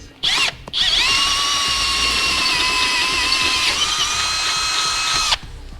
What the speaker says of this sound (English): to drill it out, I'm just going to use a step bit process